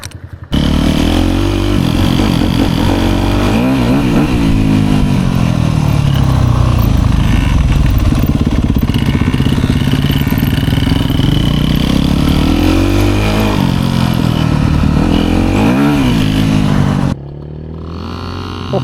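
A motocross dirt bike engine runs loud and close for most of the stretch, with rising and falling revs, then cuts to a quieter idle near the end.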